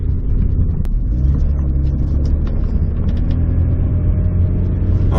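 A steady, loud engine drone from a Saturn car cruising on the open road with its transmission newly repaired, low rumble and road noise holding evenly throughout.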